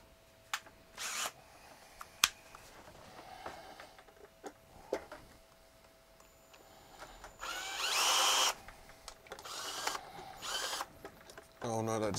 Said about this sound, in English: I bet you I'll put them in with a drill